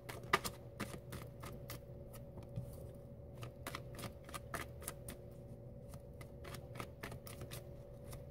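Tarot cards being shuffled by hand, a quiet, steady run of soft riffling flicks and taps that carries on for several seconds with no talking.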